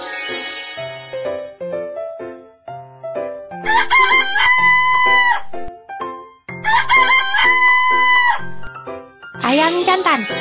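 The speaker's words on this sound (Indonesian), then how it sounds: "Ayam jantan." A rooster crows in a children's cartoon, two long cock-a-doodle-doo calls rising and falling loud and close, set among bright cartoon music and short melodic notes.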